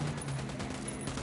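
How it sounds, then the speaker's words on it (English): Video-game fireworks going off at an oil refinery rig, a dense continuous crackle of rapid explosions that fills the short moment, loud and close. "Do you like my fireworks?"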